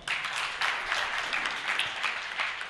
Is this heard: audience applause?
yes